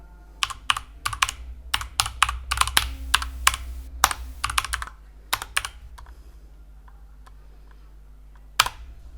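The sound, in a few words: typing a web address on a computer keyboard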